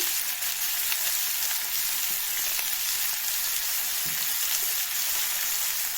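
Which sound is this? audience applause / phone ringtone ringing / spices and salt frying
spices and salt frying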